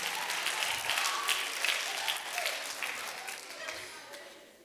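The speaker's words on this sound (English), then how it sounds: "We just clapped for her" An audience at a children's revival service applauds a young girl, a full room of steady clapping with scattered voices that holds for several seconds, then gradually thins and fades.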